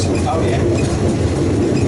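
A Phoenix diesel locomotive rumbles loudly and steadily along the track of a heritage railway through woods, with a dense mechanical drone and rail noise close by and a brief spoken reply over it.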